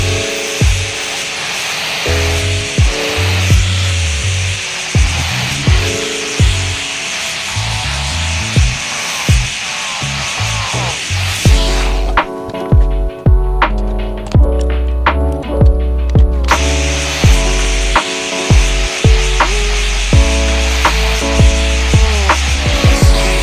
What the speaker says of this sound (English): I'm going to go around with the old flat disc and then try to keep it clamped together.